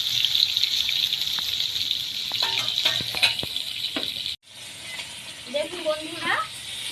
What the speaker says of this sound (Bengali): আরও কিছু মাছ ছিল, এই বাকি মাছটা কড়ার মধ্যে দিয়ে দিলাম, মাছের ডিমটাও দিয়ে দিলাম